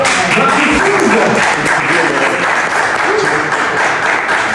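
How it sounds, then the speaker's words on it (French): Audience applause welcoming guests at a live event, a dense steady wash of clapping filling the whole stretch, fairly loud and close. "Vous pouvez les applaudir."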